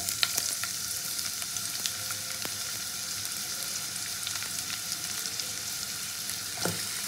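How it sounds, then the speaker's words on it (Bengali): Chopped onion crackles and sizzles in hot oil in a pan, a steady bright fizz with scattered pops and an occasional scrape of stirring, heard alone. "পুরো পেঁয়াজটাকে আমি খুব ভালো করে আগে ভেজে দেবো"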